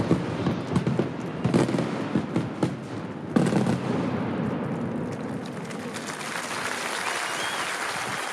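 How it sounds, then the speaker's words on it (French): Fireworks crackle and pop in a dense barrage at an outdoor night show at Puy du Fou, sharp bursts over a continuous roar of distant explosions and crowd noise. "Avec tous les feux d'artifice."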